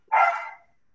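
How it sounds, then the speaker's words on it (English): A single short dog bark rings out clearly in a quiet room, followed by the onset of another at the very end. "there go the dogs"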